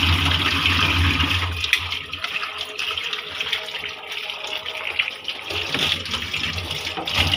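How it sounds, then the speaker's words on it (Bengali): Potatoes are washed under steadily running tap water in a sink, a loud, continuous close gush with faint splashing and handling, and no talking. "আলু এগুলি আমি আগে ধুয়ে নিয়েছিলাম একবার কাটার আগে, এখন আবার ধুচ্ছি"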